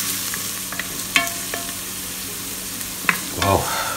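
Aromatics for Chinese-style pork ribs sizzle steadily in hot oil under a continuous frying hiss, with sharp scrapes and clinks of a spatula stirring them in the pot, a few louder strokes near the end.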